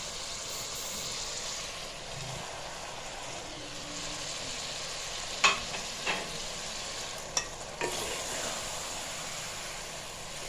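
Frozen radish pods fry in a pan with a steady, close sizzle, broken by a few brief clinks and stirring scrapes.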